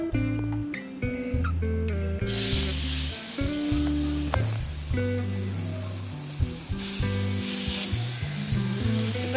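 Rava uttapam batter hits an oiled hot stone griddle and sizzles loudly and steadily, a constant hiss that swells midway, with background music playing underneath.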